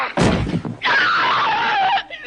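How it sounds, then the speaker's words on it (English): A woman screams in a scene from The Exorcist after being thrown across a room. A heavy impact comes first, then one long, loud, sustained scream that slowly falls in pitch. "The scream you hear isn't acting."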